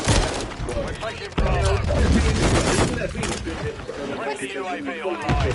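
Heavy gunfire in a video game, a loud volley breaking in and continuing as a dense crackle of shots, with a voice talking over much of it.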